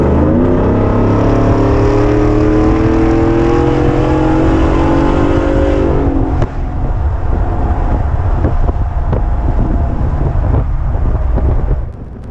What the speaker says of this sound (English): So that was some highway driving at about 70 to 80 miles an hour